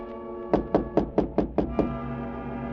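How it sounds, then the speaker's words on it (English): Seven evenly spaced knocks on a door, close and distinct, land over a steady low hum in a dramatized radio scene. "I heard a tap on my door"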